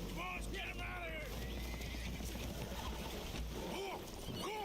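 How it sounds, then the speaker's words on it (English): Spooked horses whinny and neigh aboard a damaged, leaking boat in the Red Dead Redemption 2 video game, several high calls over a steady low rumble of water and engine, with voices talking across them. "Horses are spooked, and we're taking on water."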